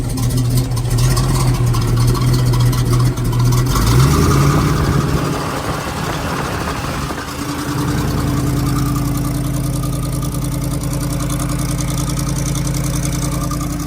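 A harvest machine engine starts up loud and rough, then settles into a steady, low idling rumble that continues to the end.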